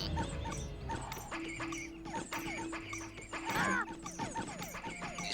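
Grunting, squealing pig creatures from the PS1 Harry Potter game, a busy run of repeated animal-like calls layered over game music and effects, fairly loud throughout.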